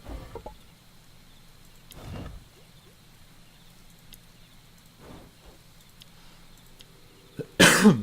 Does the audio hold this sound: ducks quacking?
no